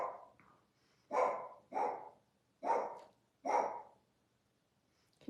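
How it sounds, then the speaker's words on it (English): A dog barks four times in a steady sequence, each bark loud and close, with short gaps between and a brief softer sound at the start, no talking over it. "now my dog's barking."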